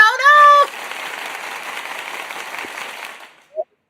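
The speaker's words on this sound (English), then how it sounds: "Let me find my applause." A canned applause sound effect plays as a short celebratory burst of clapping and cheering, preceded by a brief whistle-like tone, then fading out into silence.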